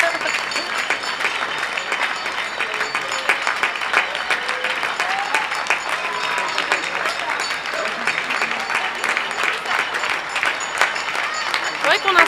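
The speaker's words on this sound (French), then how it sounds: "Faudrait qu'on installe une petite caméra là pour montrer aux éditeurs les gens qui applaudissent." Audience applause at a live evening show: dense, sustained clapping from a sizeable crowd that holds at an even level throughout, with no break.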